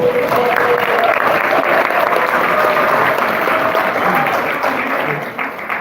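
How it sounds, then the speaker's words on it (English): An audience applauds a young man at a Martin Luther King people's convention for justice and resistance, with steady, dense clapping that holds for several seconds before tapering slightly at the end. "Give this young man a round of applause."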